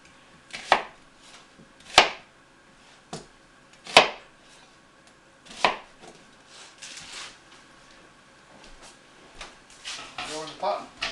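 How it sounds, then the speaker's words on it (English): A knife chops an onion on a cutting board with a few separate sharp knocks about two seconds apart, then quicker, softer cuts near the end, close by, with a voice talking in between. "So just a quick cut on the onion."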